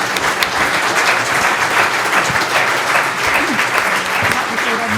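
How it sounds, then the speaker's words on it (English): An audience at an economics panel discussion on the post-Brexit economy gives a brief round of applause for the speakers: dense, loud, continuous clapping from a full room. "we could just give a brief round of applause to all the speakers"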